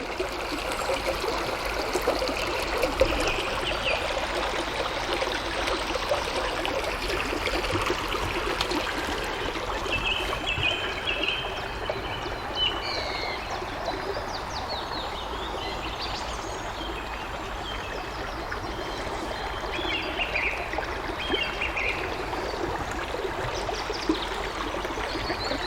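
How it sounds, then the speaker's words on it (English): A small stream flows steadily outdoors, a continuous bright trickling and babbling of water that stays even throughout, with faint birdsong now and then in the background. "Even just this little stream."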